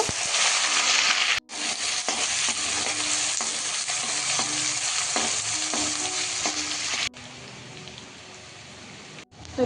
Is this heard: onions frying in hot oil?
yes